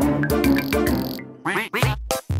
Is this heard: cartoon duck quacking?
yes